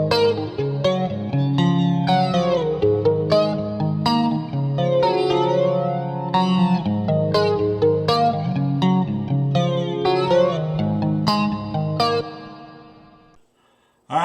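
An electric guitar played through an MXR flanger, an Eventide 910 harmonizer and reverb rings out in a run of sweeping, swirling chords and notes, loud and alone, then fades into a reverb tail near the end.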